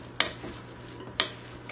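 Two sharp spoon knocks against a bowl a second apart while stirring thick vegan granola bar batter, quiet room tone between.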